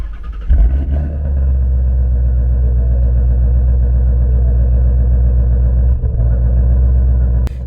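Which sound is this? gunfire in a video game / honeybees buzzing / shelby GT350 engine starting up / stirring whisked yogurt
shelby GT350 engine starting up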